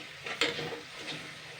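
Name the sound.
stirring spices in a pan with soy sauce, salt, sugar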